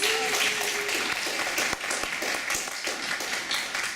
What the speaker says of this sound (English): Can we give our new members another round of applause?